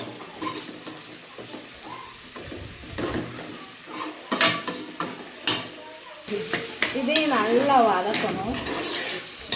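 Ground pepper roasts in a pan while a spoon scrapes and clinks against the metal in irregular strokes over a faint sizzle, and a person talks over the later part.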